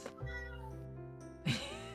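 A cat in a zombie drama meows, one long drawn-out yowl followed by a sharper second meow, close and fairly loud with no talking.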